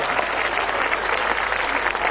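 Steady audience applause fills a Hindi poetry recital (kavi sammelan) at Seawoods, a dense, continuous clapping from the crowd lasting about two seconds without letup.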